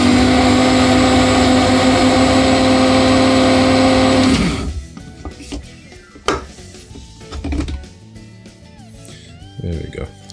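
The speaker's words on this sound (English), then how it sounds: "Just want to grind that up a little bit more." An electric grinder whirs loudly and steadily through Cajun seasoning with fresh lemon for about four seconds, then cuts off, leaving light clinks of the jar and kitchen handling; someone speaks briefly.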